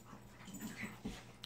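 Dogs whimper softly indoors in a brief, faint whine with a little breathy snuffling, alone and without talk.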